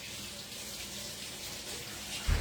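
A kitchen tap runs in a steady, moderate stream of water, heard alone for a couple of seconds, with a small clunk right at the end.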